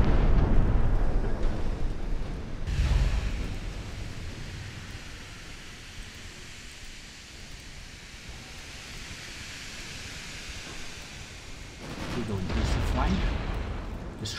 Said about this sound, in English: he's firing at the other battleship right now